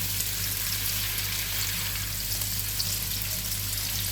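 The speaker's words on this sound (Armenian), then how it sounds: "Լավ առատ տաքացված յուղի մեջ մենք տապակում ենք կոլոլակները։" Meatballs frying in plenty of hot oil for an okra and meatball soup, a steady close sizzle and crackle running evenly throughout with no talking.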